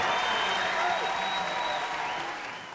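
Audience applause at an anniversary party celebrating a television soap opera, a dense, sustained round of clapping from a large crowd with a faint voice over it, fading slightly at the end.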